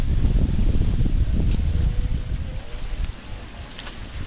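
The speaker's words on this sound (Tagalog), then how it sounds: "Lakas ng hangin, no?" Strong wind gusting outdoors near a rural hut, a loud close low rumble buffeting the microphone that eases toward the end, with no talk over it.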